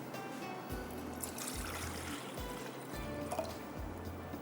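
A cup of water is poured into a pot for sugar syrup, a soft steady trickle with small splashes, close and faint.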